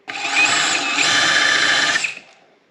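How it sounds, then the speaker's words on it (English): A power drill driving screws into wood whirs steadily for about two seconds, then winds down and stops; close and loud, no talking. "So we're gonna go ahead and drill a few of those in."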